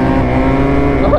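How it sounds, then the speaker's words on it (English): Two-stroke Yamaha Banshee ATV engine revs hard and steadily while the quad is power-wheelied, a loud, close, continuous buzzing drone filling the whole moment. "Power wheeling that two-stroke."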